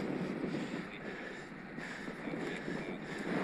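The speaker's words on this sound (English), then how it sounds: "Headwind was so strong, I actually dipped under 10 miles an hour then." A strong headwind buffets the rider on a 5% climb in the Peak District aboard a Scott Addict RC e-bike, a steady broadband roar of wind rushing past the microphone with gentle gusty swells and no talking.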